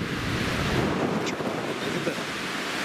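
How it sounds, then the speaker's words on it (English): Strong outdoor wind on a walking trail buffets the microphone in a continuous loud roaring rush with no pauses. "I do have a wind silencer, but I don't know if it's going to work in these winds."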